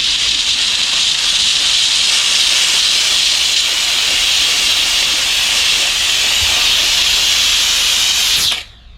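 A handheld steam cleaner lets out a loud, continuous hiss of steam, blasting steadily for several seconds close up, then cuts off abruptly.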